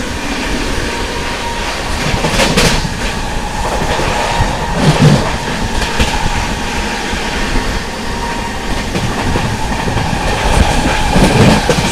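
An Amrit Bharat Express train runs through Vindhyachal station in heavy rain, a steady loud rumble of wheels with rhythmic clickety-clack over rail joints carrying on throughout.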